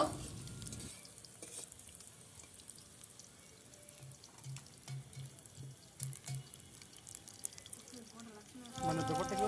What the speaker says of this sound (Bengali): প্রথমে বেসনে ডুবিয়ে ভেজে নিব